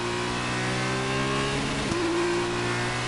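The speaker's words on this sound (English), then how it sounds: "It's at like a half throttle, and it's a Formula 2 car." A Formula 2 car engine at half throttle in the F1 2019 racing game: a steady, loud, buzzing engine note whose pitch shifts up sharply partway through, alone with no talk.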